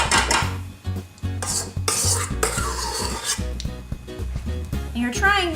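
A spoon scrapes and spreads meringue over a gluten-free cranberry meringue pie, with close rubbing and light clinks of metal against the dish, mixed with background music and some talk.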